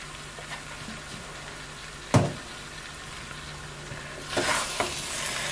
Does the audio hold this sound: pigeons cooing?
no